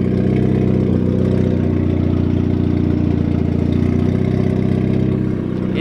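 A boosted Mazda Miata engine idles close by, a steady, loud, throbbing run with slight clatter that holds even throughout, with no talk over it.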